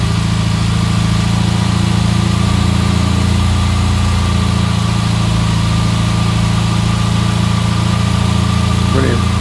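A 1984 Ford Fiesta Mk2 Ghia engine idles steadily just after starting, a loud, even, close drone with a constant low hum throughout.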